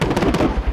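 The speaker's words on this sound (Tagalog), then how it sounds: "Umalingaw-ngaw ang sunod-sunod na putok ng mortar" Mortar fire in Maguindanao, Philippines, during fighting with BIFF forces sounds as a loud rumbling barrage of rapid, overlapping booms with a dense low roar.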